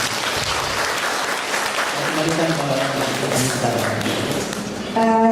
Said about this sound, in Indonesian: kita beri aplaus kepada Bapak Henry Isman